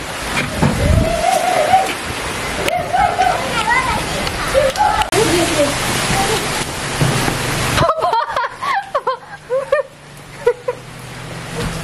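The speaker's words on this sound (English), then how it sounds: "It's pouring rain." Heavy rain pours down at a zoo in Thailand, a loud broadband wash of water, while several people talk and a voice cuts in over it; the rain noise drops sharply partway through.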